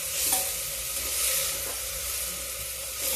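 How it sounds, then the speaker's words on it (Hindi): Shredded cabbage and moong dal roasting in a pan over a low flame, a soft, even sizzle with faint stirring, steady and close. "इसको धीमी आंच पे भूनते रहेंगे।"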